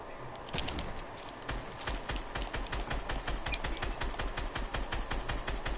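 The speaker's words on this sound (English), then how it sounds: "I heard that gunshot." Rapid gunfire in the Fortnite video game rattles off in a steady fast stream of sharp shots, fairly quiet and continuous throughout, with no one talking over it.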